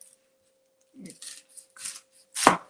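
A kitchen knife cutting and peeling an onion on a board, a few sparse, quiet cuts and scrapes with a sharper chop at the end.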